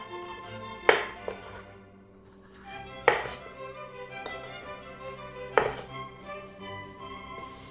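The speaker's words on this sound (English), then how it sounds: "we're going to go ahead and cut those into strips" Knife on a cutting board slicing bell pepper slices into strips, three crisp, well-spaced chops with faint tapping in between, close and clear without talk.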